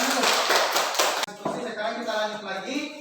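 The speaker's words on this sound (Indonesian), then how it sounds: "Berikan tepuk tangan." Students in a classroom clapping their hands, a quick burst of rhythmic claps at close range for about a second, then breaking off into loud talk from a voice.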